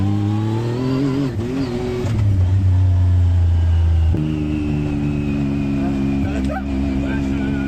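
Yamaha YXZ 1000R SS side-by-side engine pulled hard on the throttle, a loud, close droning roar that climbs and shifts pitch in steps through the gears, with a voice talking underneath.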